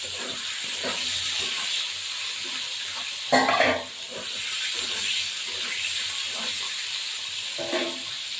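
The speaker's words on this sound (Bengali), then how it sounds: "এই আলু সিদ্ধটাও দিয়ে দেবো দিয়ে দেওয়ার পর একটুখানি ভাজবো আমি" Boiled potatoes frying in a pan with meat curry, giving a steady close sizzling hiss and a brief louder burst of stirring midway.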